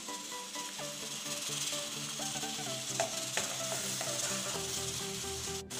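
Garlic fries in a pan with tomato sauce just added, giving a steady, moderately loud sizzle with occasional clicks and light scraping of stirring, and no talking.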